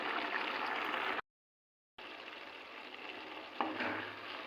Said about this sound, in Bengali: পরিমাণ মতো চিনি দিয়ে খুব ভালোভাবে মিশিয়ে নেব এবং আরও 1 মিনিট মতো ফুটিয়ে নেব।